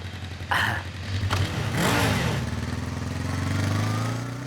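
A motorcycle engine starts up close by and revs, rising to a rough surge, then settles into a steady throbbing idle that holds to the end.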